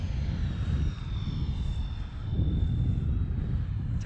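A Freewing F-14 electric ducted fan RC jet takes off at half throttle, its steady rushing roar with a thin high whine holding close and loud throughout, without any speech.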